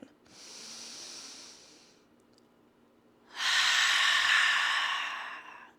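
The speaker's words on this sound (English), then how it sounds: "We're gonna take a big belly breath. Inhale, open wide." Two deep belly breaths during seated chair yoga: a softer, airy inhale first, then after a short pause a louder, fuller breath rushing in and out, close and alone without talk.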